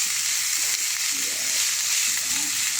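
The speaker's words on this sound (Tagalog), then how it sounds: "gigisa-gisa lang siya natin hanggang mag-brown" White onion sautéing in a pan until brown, giving a steady, close sizzle and crackle of frying with faint stirring, alone and continuous throughout.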